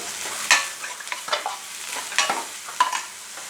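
Ginger, garlic, cabbage, carrot and capsicum are stir-fried over a high flame for dry vegetable Manchurian, with close, steady sizzling and a few sharp spatula scrapes and clanks against the pan.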